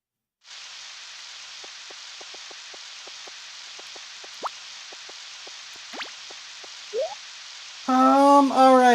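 Rain falls steadily in the video game Palworld as a soft constant hiss with scattered light drips and plops, before a burst of louder tonal game sounds near the end.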